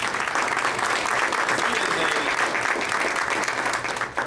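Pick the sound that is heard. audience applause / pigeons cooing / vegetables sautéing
audience applause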